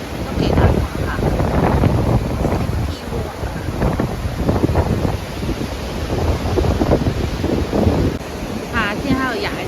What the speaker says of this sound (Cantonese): 都幾大風下。